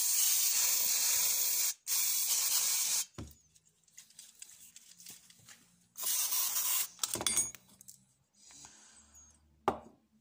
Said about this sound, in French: On va le mettre à tremper dans le nettoyant frein.